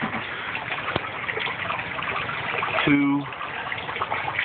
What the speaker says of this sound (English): They pump the water up into the settling chamber.